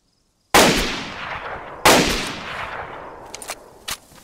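Two sharp, loud gunshots from the DayZ Standalone video game ring out about a second apart, each with a long decaying tail, followed by several fainter, quicker shots later on.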